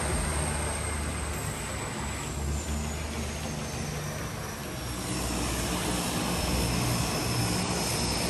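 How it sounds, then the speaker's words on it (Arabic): A propeller seaplane arriving at a Maldives island, its engine a loud, steady drone with a sustained whine on top, the roar swelling slightly near the end as it comes close, with no talking. "وأخيرا وصلت الطيارة"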